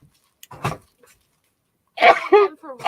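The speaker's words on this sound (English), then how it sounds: "I can feel a sneeze coming off." One abrupt sneeze bursts out nearby, followed after a brief quiet by a person talking.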